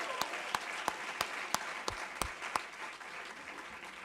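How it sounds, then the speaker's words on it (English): Applause from a small audience, with a few distinct sharp claps standing out over a soft wash of clapping that fades toward the end. "A big round of applause to the two VCs."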